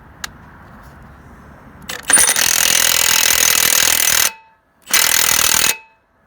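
New power tool, an impact-type hammering tool, rattling loudly as it loosens a bolt: a steady two-second burst followed by a shorter second burst, close and alone after a quiet start.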